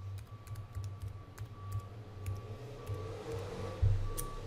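Keys tapped on a computer keyboard while entering a password at a home router setup, a quick run of light clicks over a steady low background hum.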